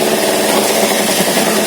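A Kawasaki Z250 motorcycle with rough running, black exhaust smoke and an unstable idle runs steadily and loud up close, with a continuous buzzing engine drone.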